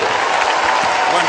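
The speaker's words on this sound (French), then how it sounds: "applaudissements pour lui" A short burst of dense audience applause from a French comedy show crowd, loud and continuous with no gaps across the moment.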